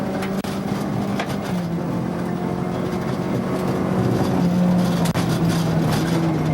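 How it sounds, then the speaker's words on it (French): Rally cars on a gravel road at the 2006 Rallye des Draveurs, heard from on board: a steady, loud engine drone with shifting tones and occasional sharp knocks, continuous throughout. "d'entendre le son des voitures et sur le gravier"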